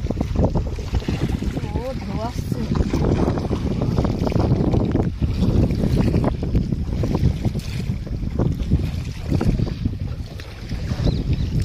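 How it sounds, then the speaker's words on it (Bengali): A boat moves fast on a wide tidal river near Marichjhapi forest in stormy weather, with a loud, steady engine roar and wind buffeting the microphone under brief talk. "খুব জোরে কিন্তু নৌকা বাজছে বাবা"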